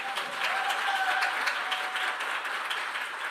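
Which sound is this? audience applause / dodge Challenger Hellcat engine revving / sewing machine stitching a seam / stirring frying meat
audience applause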